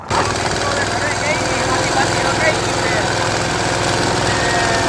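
A tractor engine rumbles loudly and steadily nearby, a low throbbing drone that starts abruptly and runs without pause; voices may be faintly present beneath it.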